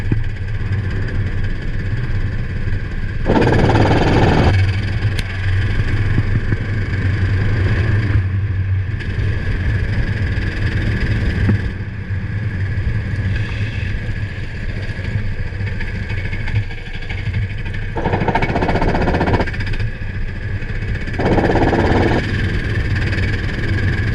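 A racing kart engine runs continuously during a kart race heat, close and loud, with a steady drone that surges in repeated rising and falling waves of revs as the kart accelerates and eases off around the track.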